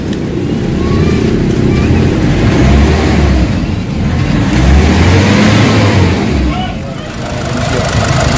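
A Nissan Navara with a 2.0 engine, suffering low power and fuel knocking, revs up and down in a loud, close rising-and-falling drone, with a voice in the background.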